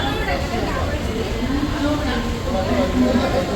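A train rumbles at Kozhikode railway station, a steady low rolling drone with voices talking over it.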